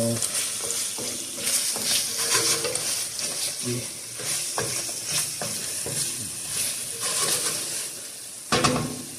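Bhuna mutton stirred in a pan, with a continuous close sizzle of frying broken by repeated scraping and clinking strokes of a spoon against the metal, and no talking.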